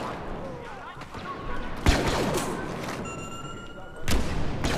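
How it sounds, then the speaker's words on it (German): Blaster gunfire crackles in the video game Star Wars Battlefront, with a few sharp shots and bursts, thuds and beeping game tones mixed in, while a player talks over the action. "Leia hat sehr schmerzhafte Schüsse."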